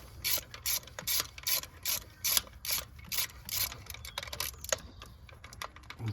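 A ratchet works loose a spark plug on a 2011-2014 Ford F150 with the 5.0L V8, giving close, repeated bursts of quick metallic clicking in a steady rhythm.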